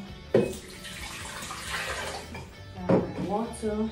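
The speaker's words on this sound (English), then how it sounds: "So I'm gonna add my water." Water is poured into a blender jar as the first liquid for a strawberry banana smoothie, a rushing splash running for several seconds with a brief pause and second pour near the end, close and fairly loud, with no talking.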